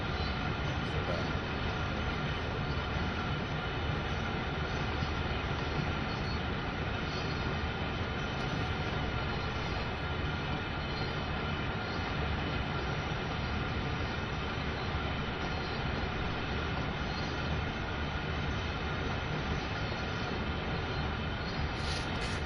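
A CSX coal freight train running from Cumberland to Shaw Mine in Train Sim World 2 on PS4, heard as a continuous, even, broadband rumble and drone that holds steady throughout without clear breaks.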